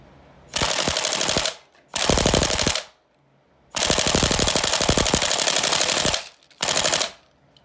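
An M240B airsoft machine gun fires BBs in four loud, close bursts of rapid mechanical rattling, two short and two longer, with quiet gaps between them.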